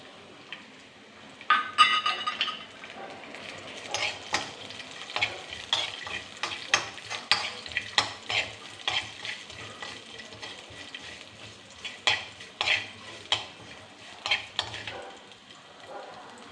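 Ginger, chopped shallots and kanthari chillies sautéing in a pan for a buttermilk curry: close, continuous frying sizzle with frequent rhythmic spatula scrapes and clinks against the pan.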